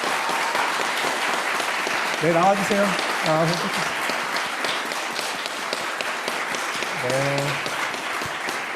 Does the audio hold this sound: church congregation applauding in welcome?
yes